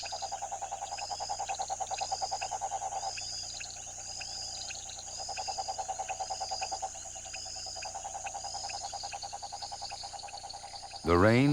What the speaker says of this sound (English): when the conditions are just right, the frogs begin to breed